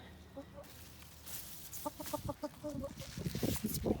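Backyard hens, or chooks, cluck in short, bouncy bursts at close range, growing busier and louder toward the end over a quiet outdoor background.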